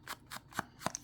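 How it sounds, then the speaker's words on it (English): Scissors cutting paper for a grunge scrapbook page, giving four or five quiet, quick snips in an uneven rhythm, close but faint, with no speech. "I'm going to go in with my scissors on the"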